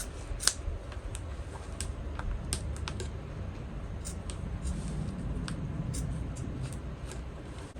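Scissors trim the excess seam allowance on a sewn fold-over crossbody bag: a run of crisp, close snips at an irregular pace over a low, steady background hum.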